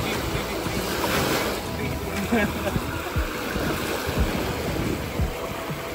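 Sea surf washes steadily near the mangrove shore of Henry's Island, a broad continuous wash with wind buffeting the microphone and occasional low thumps, a voice speaking faintly over it.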